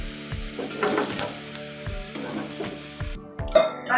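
Besan pudla, a gram flour pancake, sizzles steadily in a hot pan while a spatula scrapes and knocks against the surface several times as it is turned.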